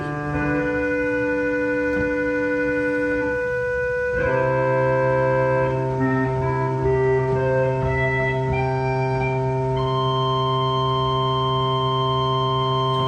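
Sustained pipe organ tones from a clarinet stop play a slow chord progression, held notes shifting and layering, with a resonant room echo.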